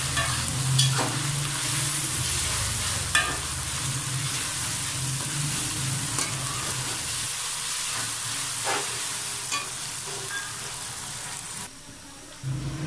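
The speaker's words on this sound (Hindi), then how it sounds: "इसमें शामिल करेंगे लहसुन और अदरक का पेस्ट और उसको भी अच्छी तरह भूनेंगे" Garlic ginger paste sizzles steadily in a hot pan, with occasional scraping stirs and a sharper hiss near the end.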